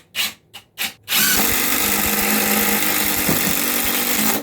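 Ridgid cordless drill driving screws into wood: three short whirring bursts, then one long sustained high-speed run, close and loud with a steady motor pitch and no talking.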